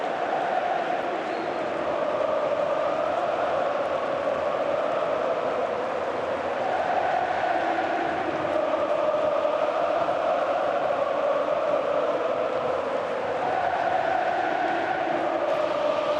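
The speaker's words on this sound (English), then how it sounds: "listen to the crowd here in San Mamés" A football crowd at San Mamés stadium roars steadily through extra time of an Athletic Bilbao versus Barcelona Copa del Rey quarterfinal, with a dense, continuous wash of voices and chanting that swells slightly without letting up.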